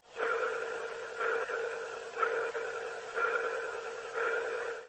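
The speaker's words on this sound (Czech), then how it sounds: "že se z palubního reproduktoru ozývají podivné zvuky připomínající sonar" Strange sonar-like sounds from the cabin speaker of a Boeing Starliner spacecraft: faint pulsing electronic tones repeating roughly once a second, heard alone with no talk.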